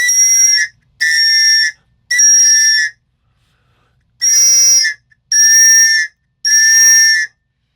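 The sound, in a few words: Thrunite titanium survival whistle being blown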